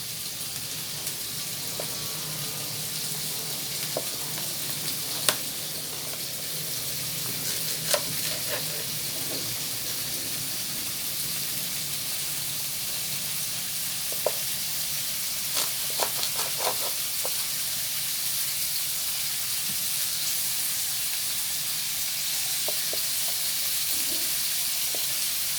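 Food fries steadily in a pan with an even hissing sizzle that runs throughout, dotted with occasional small clicks and utensil taps.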